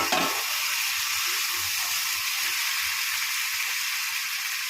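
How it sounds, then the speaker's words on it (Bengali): Fried fish heads drop into hot spiced oil and set off a steady, close sizzle with soft hissing and the occasional stir, continuous from start to finish with no voices. "মাছের মাথাগুলো ভেজে রেখেছিলাম দিয়ে দিলাম"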